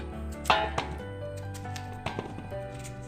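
A knife cutting raw banana into long pieces on a board for sarkara varatti, a few sharp chopping taps spaced irregularly over a low steady hum.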